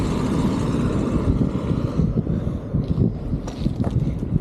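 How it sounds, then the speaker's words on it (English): Strong gusts buffet the microphone outdoors on Fuerteventura in the Canary Islands, a loud, continuous low roaring rumble that rises and falls, with no clear voices. "So windy."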